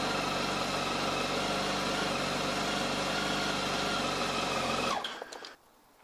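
A parked motorcycle idles on a snowy day, its engine running steady and close for about five seconds before it cuts off and fades into quiet.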